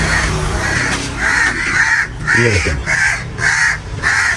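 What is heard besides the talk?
crows cawing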